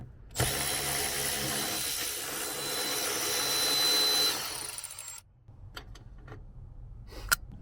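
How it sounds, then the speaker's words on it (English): A power driver with a deep 10mm socket whirrs steadily for several seconds while backing nuts off a car door checker, then cuts out, followed by a few sharp metallic clicks and clinks of parts being handled. "a deep 10mm socket without the extension to get the 2 10mm nuts"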